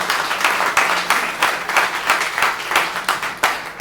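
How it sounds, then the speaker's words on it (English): A short burst of crowd applause at an outdoor political gathering in a park in Charlotte County, Florida, uneven clapping with a few sharper individual claps rising and falling. "let's give a round of applause"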